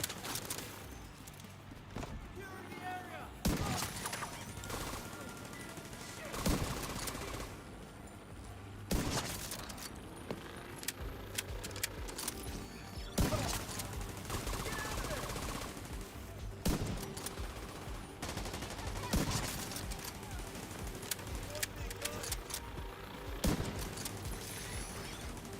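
A minigun in The Division 2 fires during combat, with bursts of rapid automatic gunfire and heavy impacts recurring every few seconds over a noisy battle bed, fairly loud, with occasional voices faint underneath.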